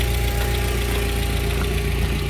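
A cold 1992 Volvo 460 turbo engine idles with a steady, loud mechanical drone and a constant hum, recorded up close while its ZF 4HP14 automatic gearbox fails to drive.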